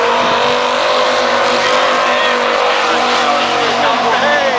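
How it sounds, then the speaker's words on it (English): Race car with a Viper V10 engine at Lydden Hill during qualifying, a loud sustained engine roar with shifting pitch, close and continuous, with a commentator talking over it. "His car's actually running a Viper V10 engine in it"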